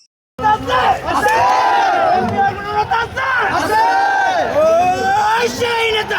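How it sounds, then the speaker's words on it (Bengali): Crowd at a BNP political rally in Bangladesh chanting slogans in loud, rhythmic, repeated call-and-response phrases, close and dense with shouting voices after a brief silent start. "এখান থেকে আমরা স্লোগান ধরে স্টেজের কাছে যাবো"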